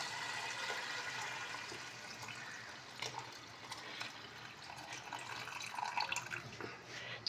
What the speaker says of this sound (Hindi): ये हमने यखनी डालना शुरू कर दी है